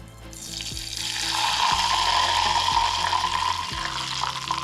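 Leftover cooking grease pours into a pan, giving a steady rushing sizzle that swells and then holds for several seconds alongside low rhythmic thumps, with no talking.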